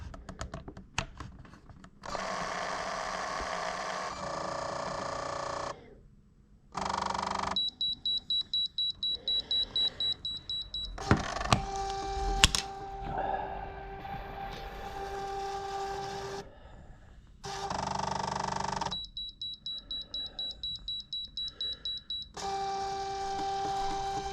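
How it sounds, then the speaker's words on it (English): An Olympus Camedia C3020 digital camera, its zoom lens grinding against a fitted lens cap, makes repeated bursts of whirring mechanical noise separated by short silences, with rapid clicking trains and high electronic beep tones, close and fairly loud. "if you do this while you've got the lens cap on, the camera makes some awful grinding noises."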